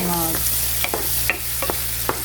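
Garlic and onion fry in a pan for Filipino macaroni spaghetti, giving a constant close sizzle under a low steady hum, with several sharp scraping taps from a spoon stirring them, and no talk.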